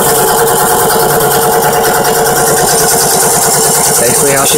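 A homemade 24V air compressor kicks on and runs, giving a loud, close, steady mechanical chugging with a rapid regular pulse throughout, while a person talks over it.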